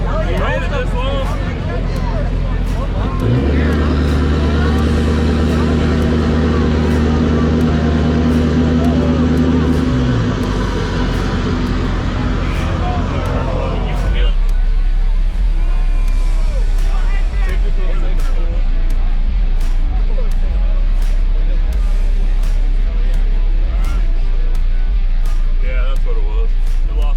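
A car roars through a burnout in a burnout pit at a Mid Michigan Mayhem event, its engine droning loud and steady, rising and then cutting off, with crowd noise and people talking nearby.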